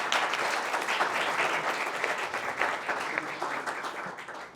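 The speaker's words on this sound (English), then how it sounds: "So big applause to Малки съкровища." Audience applause at a startup pitch competition, a steady wash of many hands clapping at moderate volume throughout, fairly even with no pause and no clear talk above it.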